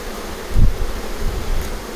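Honey bees hum around a hive in a short burst of close, steady buzzing, with a soft rustle and a brief low thump near the start.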